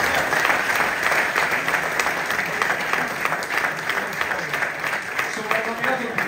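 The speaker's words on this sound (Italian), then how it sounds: "Sì, fategli un applauso" Steady, dense applause from an audience greeting Dario Di Calla as he is introduced at a talk event, filling the whole stretch at an even, loud level with a faint whistle-like tone riding above.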